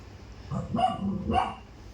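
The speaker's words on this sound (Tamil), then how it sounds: "நாய் எங்கடா நாய் அங்க இருக்க பாரு நாய் குறைக்காதோ" A dog barking during a stage play, two short barks about half a second apart, moderately close over a quiet background.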